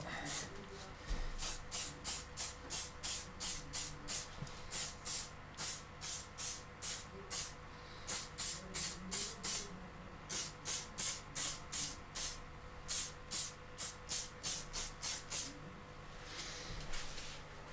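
Rapid bursts from an aerosol spray can coating small jewellery box pieces, a long run of short hissing pulses at close range with brief pauses between groups.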